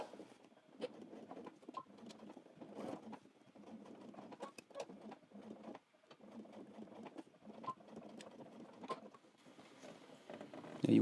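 A sewing machine stitching a welt pocket on a men's trench coat, quick bursts of needle chatter broken by short pauses, close and fairly quiet.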